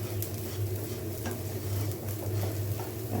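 Polao rice frying and being stirred in a pan, a continuous close sizzle with soft scraping and light clinks of the spoon against the pan, steady and unbroken with no talking.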